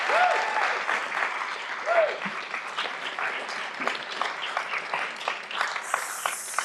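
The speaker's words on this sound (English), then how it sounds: "if you could give them a huge round of applause for their own activism" Audience applause fills a Seattle City Council swearing-in ceremony for Teresa Mosqueda, a dense, steady crowd clapping that holds for several seconds with a few faint whoops and voices underneath.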